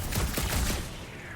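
Rapid bursts of gunfire in the Guardians of the Galaxy video game rattle loud and close for about a second, then fade into a lingering boom.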